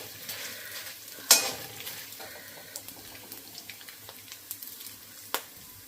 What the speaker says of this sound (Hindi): थोड़ी देर तक इसको फ्राई होते रहने देना है, क्योंकि फिर ये नहीं तो अंदर से कच्ची रह जाएगी